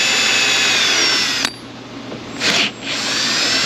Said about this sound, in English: we'll try to drill the top of this out without going too deep